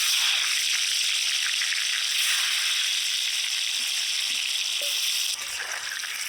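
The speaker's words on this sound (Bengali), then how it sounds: "তেল গরম হয়ে গেছে আলু দিয়ে দিলাম" Loud, steady sizzling of potatoes frying in hot mustard oil, a dense crackling hiss that continues without pause and eases slightly near the end.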